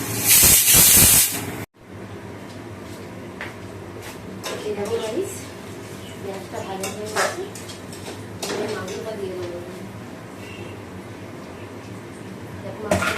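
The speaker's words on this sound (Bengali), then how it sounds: "দেখো কড়াইতে তেল দিয়ে দিয়েছি" Oil heated in a wok (kadai) before meat goes in gives a loud, close hiss and sizzle burst at the start, then a quieter kitchen background while someone talks.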